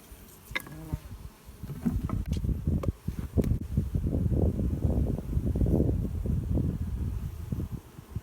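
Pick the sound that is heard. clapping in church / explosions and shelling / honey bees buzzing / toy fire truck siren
honey bees buzzing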